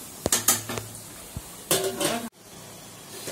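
A metal lid is lifted off a cooking pot of khichuri, giving a few close clanks and scrapes in short bursts, then a brief rattle before quiet.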